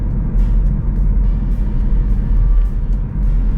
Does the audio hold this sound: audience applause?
no